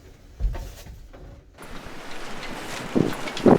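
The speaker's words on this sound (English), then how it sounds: "I don't think you'd be able to hear me over the wind" Gusty wind buffets the microphone outdoors, with low rumbling blasts that swell and ease, growing stronger toward the end.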